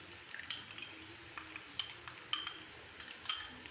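Masala with red chili powder and garam masala fries in a pan for palak chicken, a soft steady sizzle broken by scattered light metallic clinks and scrapes of a spoon, close and without speech.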